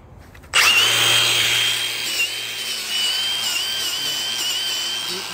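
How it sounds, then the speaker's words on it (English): A power grinder prepping the top seal surface of a flatbed truck's spread-axle hub during an over-the-road service repair starts abruptly and runs loud and steady, with a high whine holding on without a break. "just prep this top with a grinder"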